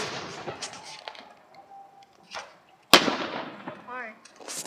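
Fireworks go off outdoors with a few sharp pops early on, then one loud close crack near the middle followed by crackling, while people chat and laugh throughout.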